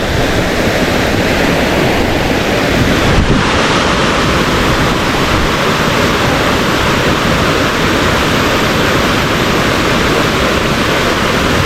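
Steady, dense rush of falling water from a moss-covered forest waterfall on Gariwangsan, South Korea, loud and continuous throughout with no voices, a broad roar like a cascade nearby.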